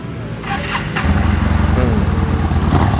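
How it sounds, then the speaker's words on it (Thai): A 2014 Yamaha Bolt R motorcycle with its stock exhaust idles, then revs up sharply a couple of times, loud and close, settling into a rumbling roar with brief blips of throttle. "คันนี้ยังคงเป็นท่อเดิมอยู่เพื่อว่าเดิมทั้งคันเลยนะมาฟังเสียงท่อกันหน่อย"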